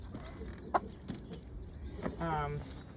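A hen clucks a few times nearby, short throaty calls scattered over a quiet outdoor background.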